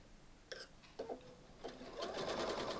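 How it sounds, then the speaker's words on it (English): A sewing machine chain-pieces quilt seams, starting and stopping in short bursts before running steadily, close and moderately loud with no talk. "Sew over the seam, leave the needle down, nest and interlock the next seam, and then sew."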